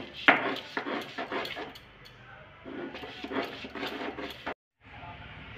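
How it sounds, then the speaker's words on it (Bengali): Coconut being ground by hand in a steel bowl, producing a series of rough, rhythmic scraping and knocking strokes close up, with a brief pause near the end. "এখন আমি নারকেলটাকে হাফ বেটে নেব। আমি এখানে সিলভারটাতে নারকেলটা পিষে নেব।"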